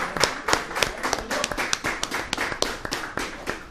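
A small crowd claps steadily for a few seconds, the applause close and fairly even with no voices.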